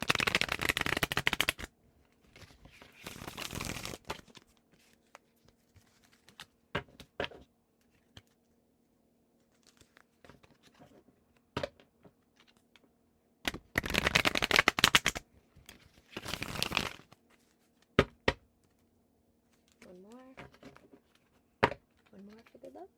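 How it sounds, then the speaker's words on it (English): Several crisp bursts of cards being shuffled, loud and close, separated by pauses with soft handling sounds and brief faint talk. "I'm going to give this deck 3 good shuffles"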